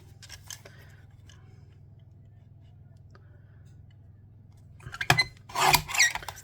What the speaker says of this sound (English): Now I need to chop the sentiment. Got a little trimmer here.